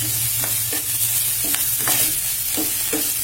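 Fenugreek leaves frying in hot oil give a steady close sizzle, broken by several sharp stirring scrapes spread across the few seconds.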